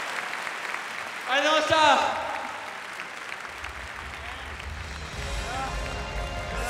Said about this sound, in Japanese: 両選手に今一度盛大な拍手をお送りください